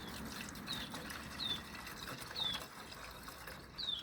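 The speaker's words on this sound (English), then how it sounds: "so let's put some water in." Water poured into a car's cooling system during a heater matrix pipe repair, a steady liquid gush running nearby for several seconds with faint high chirps over it and no talk.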